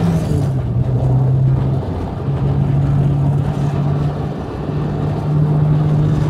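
Toyota AE86 with a 4AGE engine and six-speed gearbox driven on a mountain touge road, a loud, steady engine drone with a constant low tone and road rumble, no talking.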